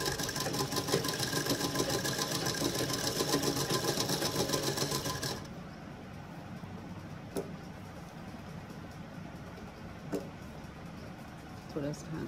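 A sewing machine stitching a blouse whirs loudly and steadily at speed for about five seconds, then stops, leaving quiet room noise with a few light clicks.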